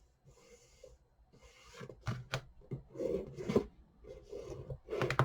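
Paper for a pendulum clock craft being creased and folded by hand, with dry rustling and rubbing strokes that come in short bursts and grow louder and more frequent toward the end, close up and alone.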